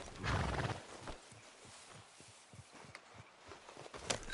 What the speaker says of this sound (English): How's that horse treating you?